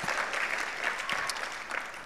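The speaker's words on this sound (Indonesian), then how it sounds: "Berikan tepuk tangan kita." A congregation at a church service claps steadily for a couple of seconds, a soft, even patter of many hands heard from some distance.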